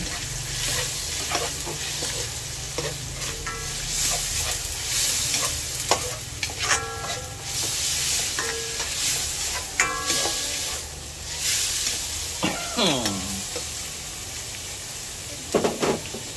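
Shrimp added to tomatoes frying in a pan, a steady close sizzle and hiss with occasional spoon clinks and scrapes over it.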